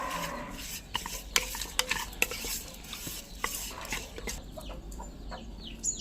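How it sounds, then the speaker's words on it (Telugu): Mutton pieces are worked by hand or spoon with masala, curd and ginger paste, giving wet squelching and scraping with sharp clicks against the vessel, close and alone without talk. "ఈ మసాలాలన్నీ మటన్ ముక్కలకి బాగా మిక్సప్ చేయాలి."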